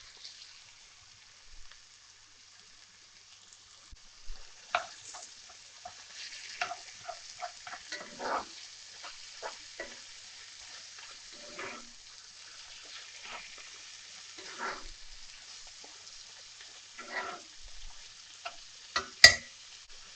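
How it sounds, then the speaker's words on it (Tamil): Minced lamb for keema matar fries in a pan with a low sizzle, broken by intermittent scraping stirs of a spoon, faint and close throughout. "ஸோ இந்த ஸ்டேஜில் நம்ம எடுத்து வச்சுருக்க இந்த மின்ஸ் ஆன லேம்பை வந்து இதில் போட்டுடலாம்."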